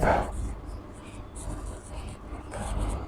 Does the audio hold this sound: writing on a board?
yes